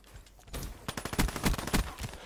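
Rapid bursts of automatic gunfire from a Call of Duty Black Ops 3 multiplayer match, several loud clustered volleys of shots fired in quick succession with no voices over them.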